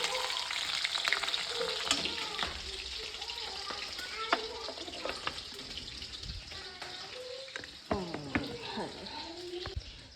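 Onions frying in a pan with a crackling sizzle and occasional stirring clatter, a voice talking over the cooking at moderate distance.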